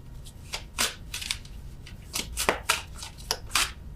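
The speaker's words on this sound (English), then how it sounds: "I'm terrible at shuffling these cards." Tarot cards being shuffled, a series of quick papery riffles and flicks in uneven bursts, close and fairly crisp, with no talking.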